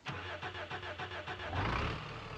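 A prepared truck engine in BeamNG.Drive cranks with a rapid series of starter chugs, then catches and settles into a rising, rumbling idle, loud and close with no talk.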